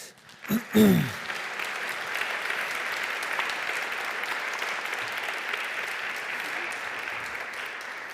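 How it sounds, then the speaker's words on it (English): An audience applauds panelists at the close of a CIVIS alliance panel event. The steady clapping rises after a brief opening sound and continues evenly throughout, moderately distant. "A big round of applause for all of our panelists"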